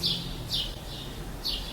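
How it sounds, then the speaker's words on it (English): Birds chirp outside in short, bright bursts repeating every half second or so, heard through a window over a low background hum. "Please excuse the birds. I know they're loud"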